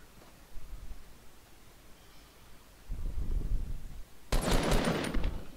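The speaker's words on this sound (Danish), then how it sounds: "Skal jeg skyde efter dem og stoppe dem lidt?" Bursts of automatic gunfire shooting at enemies in the video game Fortnite, a short muffled rattle followed by a longer rumbling volley and then a sharp, bright close-range burst, with no talk over them.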